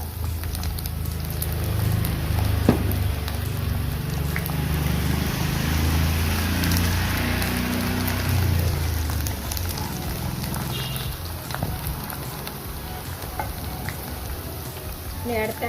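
Garlic fries in hot oil in a pan for a date pickle, giving a steady, dense sizzle close by that holds evenly throughout.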